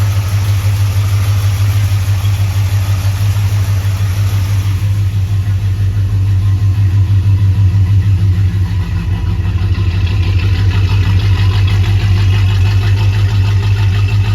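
A car engine with its exhaust leaks fixed idles steadily and close by, a low rumbling hum with a slight rhythmic pulse that holds even throughout.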